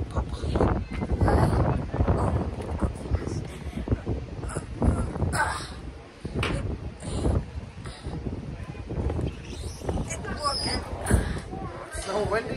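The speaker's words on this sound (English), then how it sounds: "Cracker, it's so windy" Strong wind buffets the microphone on a beach, a loud, continuous low rumble with gusty swells and occasional creaks throughout, while people talk faintly underneath.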